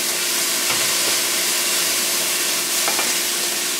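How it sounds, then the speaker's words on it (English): Carrots, green onion and fresh herbs sauté in a pan as a filling for stuffed chicken breast, a steady close sizzle with a couple of soft stirring scrapes. "so this has been sauteing for maybe 5 minutes or so"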